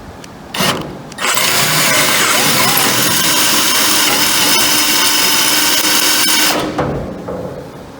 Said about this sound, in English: We may have to use a long series drill